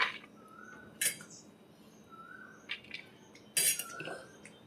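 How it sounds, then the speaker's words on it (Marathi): Sprouted moth bean curry is served from the pan onto a plate. A spoon gives a few sparse, faint metallic clinks and scrapes against cookware in a quiet room. "तर एका प्लेटमध्ये काढून घ्यायची."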